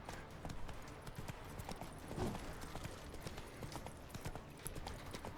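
Steady clip-clop of horse hooves trotting along in The Witcher 3: Wild Hunt, rhythmic and continuous, with game ambience and a faint voice in the background.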